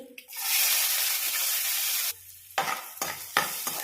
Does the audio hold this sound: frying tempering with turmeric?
yes